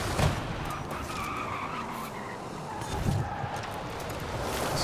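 A Porsche Taycan Turbo S in Forza Horizon 5 braking hard and skidding, with sustained tire squeal and scrubbing over a steady electric drive hum and a couple of heavy thumps, with no talking.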